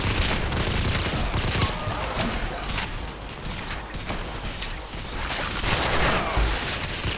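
Dense, continuous gunfire and battle noise in Fallout 4 during a fight near robots, a steady loud roar of overlapping shots with no clear pauses.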